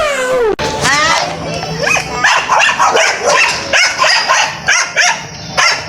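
Several dogs bark and yip near at hand in rapid repeated bursts, with whines mixed in, while people talk over the noise.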